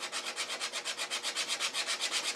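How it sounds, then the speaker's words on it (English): Wooden turned piece rubbed back and forth on 120-grit sandpaper laid on flat MDF, a quick regular rasping stroke repeated about a dozen times, close and even. "I can rub that against some flat sandpaper"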